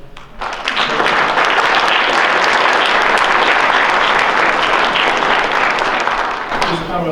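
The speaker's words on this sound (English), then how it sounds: "One more round of applause." Sustained applause from a crowd at a university Veterans Day ceremony, building quickly into a loud, dense clapping that holds for several seconds before tapering off.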